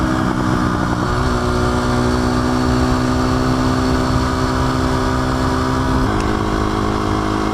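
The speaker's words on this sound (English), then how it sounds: "We're gonna have a crotch rocket dual sport race." A sport motorcycle and a dual sport bike race along a road, a loud, steady engine drone with sustained tonal whine that shifts pitch around the middle and again near the end, close and without voices.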